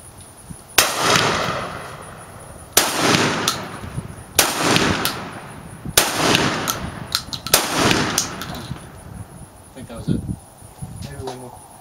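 Gunshots ring out at an outdoor shooting range, five loud sharp reports spaced about two seconds apart, each with a short echoing tail, then a few lighter clicks and handling noises near the end.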